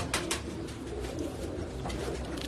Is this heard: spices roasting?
no